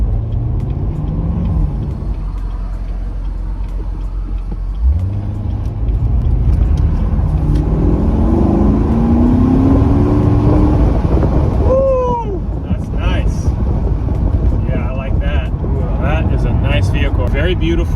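Chevrolet Corvette cruising on the road at speed, with steady tire and wind roar and a muted engine note that shifts as it accelerates, heard from inside the cabin while someone talks.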